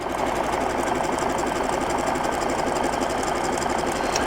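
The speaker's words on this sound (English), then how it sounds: "So I've actually learned you can lock your machine into reverse and satin stitch backwards sometimes." Sewing machine running fast and steady while satin stitching quilted appliqué around the tail of a skateboard design, giving a continuous rapid mechanical chatter with an even, close hum and no pauses.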